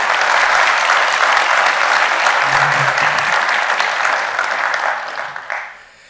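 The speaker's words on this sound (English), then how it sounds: "Round of applause." An audience at a cybersecurity employer panel event applauds as a panelist is introduced, a loud sustained wash of many hands clapping that holds steady, then tapers and fades near the end.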